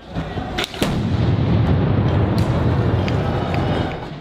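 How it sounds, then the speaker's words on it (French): A GLI F4 grenade, containing 25 grams of TNT, blasts at a street protest, a sharp crack followed by a loud, sustained rumbling roar that gradually fades. "La sanction policière intervient sous la forme d'une grenade particulière, la GLI F4, qui contient 25 grammes de TNT."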